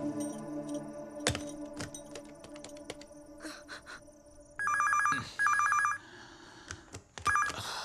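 An old-style telephone bell rings in bursts at a police station, with faint clicks and tapping between the rings.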